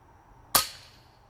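A single sharp crack from an FX King pellet air rifle, fired outdoors at a 150-yard target, close and loud with a short fading tail, no talk.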